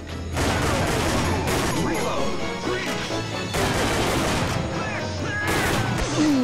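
Dense, continuous enemy machine-gun fire in the arcade light-gun shooter Time Crisis on PlayStation 1, with crashing impacts and game effects layered over a steady loud barrage.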